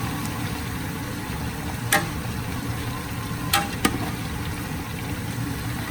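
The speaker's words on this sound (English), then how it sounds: "Frying in some olive oil and grapeseed oil." Pork belly fries in hot olive and grapeseed oil with a steady, close sizzle and occasional sharp pops and crackles.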